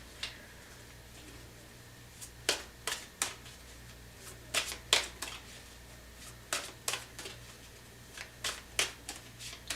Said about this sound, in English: Sometimes I just feel like I need to shuffle, shuffle, shuffle.